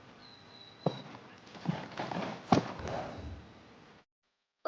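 Small, soft hooves of a Shetland pony in a video game step out a few gentle, muffled clip-clops over a low background hum, with the sound cutting off near the end.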